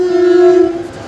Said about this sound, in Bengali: ওদিক দিয়ে একটা কীরকম ট্রেন যাচ্ছে মালগাড়ি।